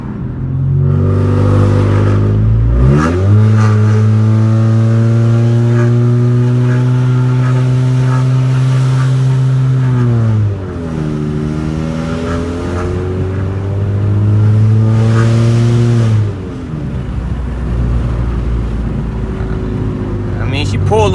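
Car engine fitted with an Injen cold air intake revs hard several times, climbing and holding loud rising-falling tones close by with a raspy intake roar, each pull dropping back toward idle between bursts.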